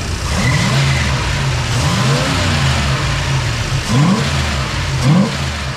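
A 1965 Plymouth Fury wagon engine fitted with Sniper 2 EFI idles loudly nearby and is blipped several times, each quick rev rising and falling over the steady rumble.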